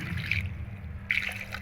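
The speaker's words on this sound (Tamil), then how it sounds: "இதில் 1/2 குடம் தண்ணி ஊற்றினா போதும்." Water poured into a blender holding carrots for a carrot laddu mixture, a brief splashing trickle in two bursts, fairly close and alone.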